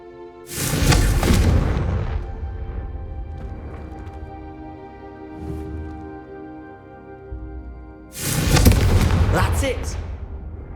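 A Confringo blasting spell bursts against candelabras in Hogwarts Legacy, with two loud fiery blasts, one at the start and another near the end, over a sustained musical hum and a softer burst in between.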